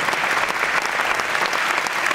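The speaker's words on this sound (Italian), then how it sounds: "continuiamo con l'applauso" Steady, dense applause from a concert audience greeting pianist Stefano Miglioli at the Cherubino Music Award in Mirandola, sustained and even throughout with no voices over it.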